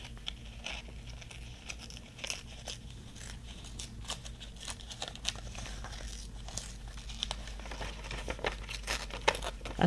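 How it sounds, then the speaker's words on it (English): Paper is ripped by hand for a junk journal, producing continuous close crinkly tearing and rustling with small sharp rips scattered throughout, over a low steady background hum. "I'm just gonna give her a rippity rip with"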